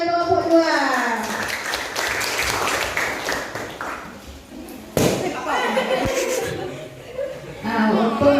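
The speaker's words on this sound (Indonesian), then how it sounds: "Tepuk tangan kelompok 2." A group of children clapping and applauding, with brief chatter and laughter among them, plus a sharp slam partway through.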